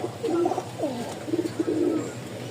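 Pigeons coo repeatedly at close range in a loft of high-quality pairs kept for sale, several soft rolling coos overlapping with brief pauses and no talk.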